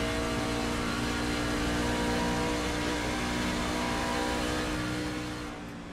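A racing truck engine held on steady throttle, heard from an onboard camera during a race, a loud continuous droning roar with dense harmonics that slightly drops off at the very end, no talk.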